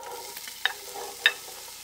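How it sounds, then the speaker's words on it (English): Onions go into a skillet for Salisbury steak, sizzling quietly and steadily as they are stirred, with two brief clinks of a utensil against the pan. "And I'm going right in with the onions,"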